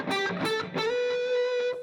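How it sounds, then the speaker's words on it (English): Electric guitar through a distortion preset on a Fractal FM9 modeler, a short burst of overdriven notes ending in a held sustained tone, heard alone. "And then I have a couple distortion sounds set up."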